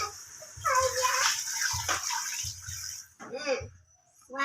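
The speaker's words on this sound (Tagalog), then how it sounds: "Tapos lalagyan na natin ng tubig." Water poured into a cooking pot for native chicken tinola with lemongrass, a gushing splash in bursts, close and moderately loud, while a person talks between pours.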